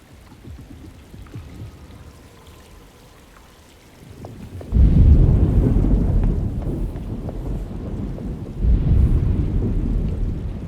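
Thunderstorm in the game Alone in the Dark (2024), quiet ambience giving way to a loud deep rumble of thunder, followed by sustained heavy rolling noise and a second surge toward the end.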